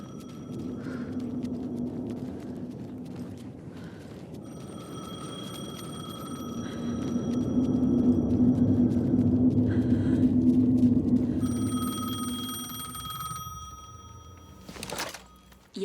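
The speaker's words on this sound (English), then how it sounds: "The phone again." An old telephone rings in repeated bursts over a low, swelling rumble in Alan Wake 2, with a sharp click near the end.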